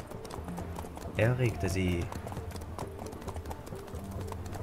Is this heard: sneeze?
no